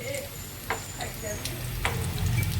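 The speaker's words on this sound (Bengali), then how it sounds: "এগুলো ভাজা হচ্ছে আম্মা ভেজে নিচ্ছে একটু উল্টা পাল্টা দিয়ে দিয়ে ভেজে নিচ্ছে" Chicken rolls fry in a pan in a home kitchen, a soft steady sizzle with small crackles and a few clinks as they are turned over.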